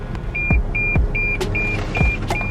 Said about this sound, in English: it's beeping. It doesn't want me to hit any thing.